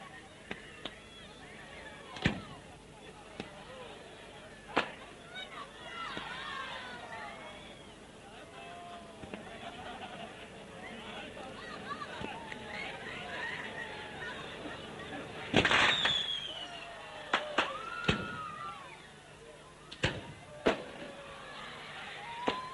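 A fireworks display at a 1990 track event at North Arm, Australia: scattered distant pops and sharp bangs, with one louder crackling burst, over steady crowd chatter.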